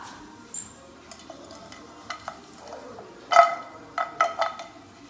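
Shrimp for fajita bowls frying in a pan, a soft sizzle broken by a few louder clatters and scraping bursts as pieces are moved, close by, with no voices.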